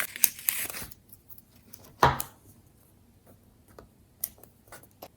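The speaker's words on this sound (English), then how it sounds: "So let's put down a reading sticker." Planner sticker peeled from its backing and pressed onto a page, a few soft crinkly tears and taps, close and quiet, with one sharper peel partway through.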